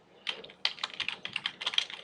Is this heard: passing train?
no